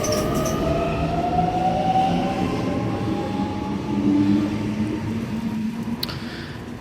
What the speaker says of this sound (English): M26 now departing platform number 1 Carlingford service